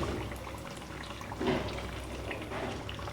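Spoonfuls of bonda batter drop into hot oil, which keeps up a continuous loud frying sizzle and swells briefly as each new dollop goes in.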